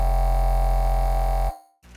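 A distorted sub bass synth in a dubstep production holds a loud, buzzing, sustained tone for about a second and a half, then cuts off abruptly and leaves only a faint, brief tail.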